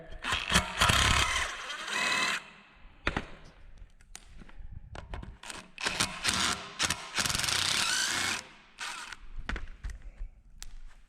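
Mud is scraped off suspension bolts on a Datsun 240Z, giving repeated rough, gritty scraping strokes up close with scattered metallic taps and clicks between them.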